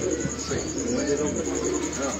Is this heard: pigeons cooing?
yes